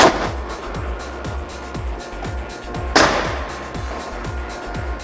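A nail gun fires to fasten a wall's top plate up into a joist: two sharp, loud cracks about three seconds apart over a steady, rhythmic low thumping.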